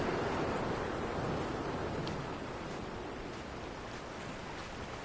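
Sea waves in the video game Dear Esther, a broad steady wash of surf noise that swells slightly at the start and then eases, soft and continuous without distinct breaks.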